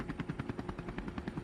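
A helicopter in a video game gives a rapid, rhythmic rotor chop, loud and close, with fast regular pulses beating evenly throughout.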